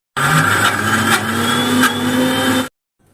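A kitchen mixer grinder whirs loudly as it grinds soaked chana dal for vadas, running steadily for about two and a half seconds, then cutting off abruptly into silence.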